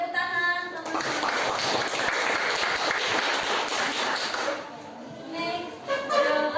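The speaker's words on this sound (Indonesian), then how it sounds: "tepuk tangan teman-teman." Applause from a classroom of teachers and students during a group presentation session, a dense patter of clapping that runs several seconds, fades, and picks up again briefly, with some voices near the end.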